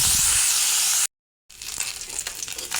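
Small mola fish coated in salt and turmeric frying in hot oil, a loud dense hiss that cuts out briefly, then resumes as a softer, crackling sizzle.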